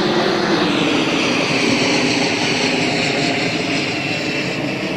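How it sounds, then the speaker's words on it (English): An airplane passes over a beach, its broad engine roar steady and loud for the whole stretch with no break and no voices. "Oh, not another airplane."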